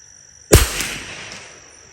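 A single sharp rimfire rifle shot from a Marlin Model 25 fired at a target 50 yards away; the crack is loud and close and decays quickly with no voices.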